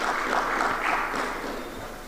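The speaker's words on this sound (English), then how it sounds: "A round of applause for him as he takes the stage." Audience clapping at a technology week conference as a company CEO walks onto the stage, a brief dense wash of applause that fades slightly toward the end.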